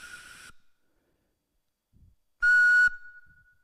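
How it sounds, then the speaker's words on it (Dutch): A handheld whistle is blown twice: a short half-second blast, a pause, then a louder, longer blast with a thin trailing tone, nearby and with no talk around it. "Als ik daarop fluit."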